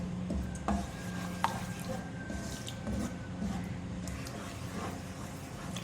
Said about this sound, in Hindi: 2 टेबलस्पून लहसुन अदरक का पेस्ट डालें, भूनेंगे इसको